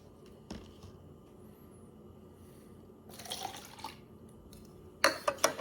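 Half a cup of water is briefly poured into a dish, a soft trickle midway, then a louder splashing pour at the end; quiet background otherwise.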